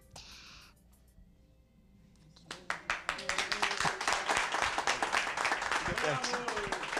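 After a few quiet seconds, a group in a municipal library bursts into brisk applause, rapid overlapping claps that keep going at a steady, lively pace.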